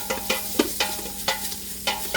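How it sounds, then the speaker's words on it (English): Cooked meat browns in a pan for hot and sour soup, with a steady faint sizzle and regular utensil scrapes and taps every fraction of a second, close by and without speech. "since it's the cooked meat, I'm going to let it brown just a minute or two"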